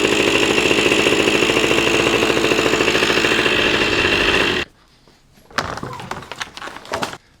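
The 80cc two-stroke engine of a Suzuki DS80 dirtbike idles loudly and steadily up close for several seconds, then cuts off abruptly. A few scattered clunks and knocks follow in the quieter space.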